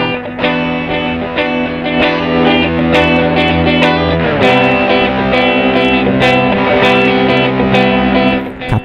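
Layered electric guitar loops play back on an Electro-Harmonix Nano Looper 360, with loud, sustained, slightly distorted chords overlapping continuously and a brief shift partway through.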